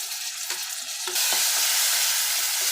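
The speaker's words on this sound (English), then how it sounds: "now we will add the chopped tomatoes into this mixture" Chopped tomatoes hit a hot pan of sizzling masala mixture with hing, a few stirring knocks and then a loud, steady sizzle and fry close by, no voices.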